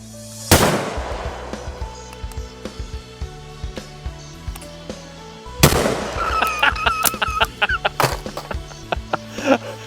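A Kizilkaya RT25 shotgun fires twice at a clay shooting ground, two sharp, loud bangs about five seconds apart, each with a short ringing decay and some clattering handling sounds after the second.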